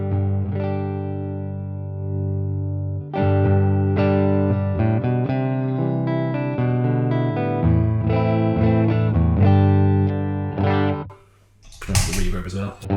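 Electric guitar through a Lovepedal Reverb Deluxe pedal into the front of an amp, a loud close run of sustained distorted chords and single notes for several seconds, then a brief noisy scrape at the end.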